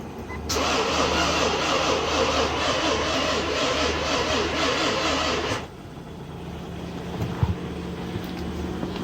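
A rebuilt Nissan Infiniti VK45DE 4.5-liter V8 cranks and catches, running loud and rough for about five seconds before dropping to a steadier, quieter idle with a couple of clunks.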